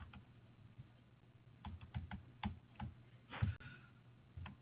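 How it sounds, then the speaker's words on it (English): Someone is typing on a computer keyboard while writing code, with irregular bursts of close, crisp key clicks over a low steady background hum. "I am typing"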